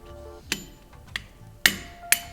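A hammer taps the chuck of a flanged ball valve four times, sharp metallic knocks spaced about half a second apart, close and distinct against a quiet background.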